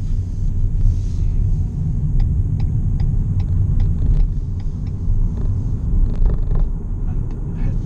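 A Renault Zoe ZE50 electric car coasts with the accelerator released, heard from inside as a steady low road rumble and tyre noise, with faint regular ticking, like an indicator, running through it.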